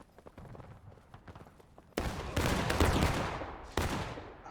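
Musket volleys crash out in the War of Rights video game, a loud layered wave of black-powder gunfire breaking after quieter scattered sounds, sustained rolling shots, then another sharp volley near the end.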